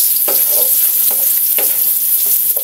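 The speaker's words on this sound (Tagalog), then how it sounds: "Dito sa pinagprituhan natin, dito na rin tayo magigisa. Bawang sibuyas." Garlic and onion sauté in oil left over from frying, a steady bright sizzle with a few scraping stirs of a utensil, close and loud, with no voices.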